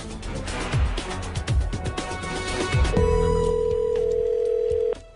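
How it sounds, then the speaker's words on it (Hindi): A telephone rings in a comedy scene amid busy background sounds, ending in a steady electronic tone that holds for about two seconds before cutting off sharply. "फोन बज रहा है मैन"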